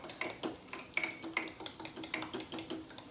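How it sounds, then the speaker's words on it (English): A spoon stirring remoulade sauce in a bowl: a quick, irregular series of light clinks and scrapes against the bowl, close and fairly quiet, with no voices. "We'll mix that up."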